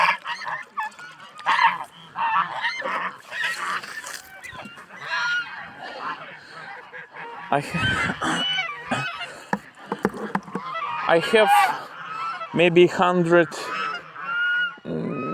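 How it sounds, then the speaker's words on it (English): A large flock of about 120 geese on a pasture in the Russian Far East honking and cackling continuously at close range, noisy and overlapping, with someone speaking briefly over them. "I think not more than 120 geese now"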